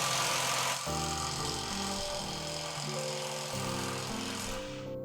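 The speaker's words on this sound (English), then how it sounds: "We have the big GISAM set to the highest torque, the highest speed. We're trying to tighten it for 5 seconds." Large GISAM 1800Nm impact wrench at highest torque and speed tightening a nut, a loud continuous hammering rattle with stepwise shifts in pitch as the nut seats, lasting several seconds with no talk.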